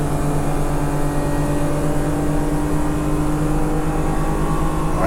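A BMW six-cylinder race car drives past on a circuit at Dijon, its engine drone steady and loud throughout with sustained harmonic whine, no voices over it.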